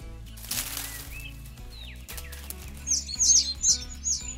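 Cartoon birds in a Rainbocorns children's animation chirp in a quick flurry of high, bright tweets over busy background music, the calls crowding together toward the end.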